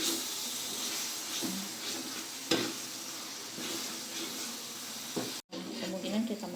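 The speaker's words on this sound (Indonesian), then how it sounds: "kita besarin apinya sedikit, lalu kita tumis lagi hingga dia benar-benar wangi" Tauco spice paste is stir-fried over a raised flame, giving a steady sizzle and hiss with repeated scraping stir strokes and a brief clatter, close by with no talking.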